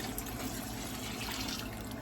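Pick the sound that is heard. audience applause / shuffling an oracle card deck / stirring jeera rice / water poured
water poured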